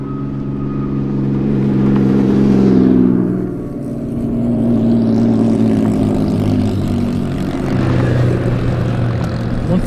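An Audi R8 and a 1999 Corvette race side by side down a half-mile airstrip drag course, a loud engine roar swelling, dipping briefly, then rising again as the cars pass, with commentary faintly underneath.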